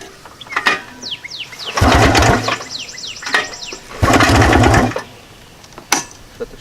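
Polaris two-stroke engine being pull-started with the choke on, two long ratcheting pulls of the recoil starter plus shorter tugs, the small engine sputtering briefly without catching, close and loud.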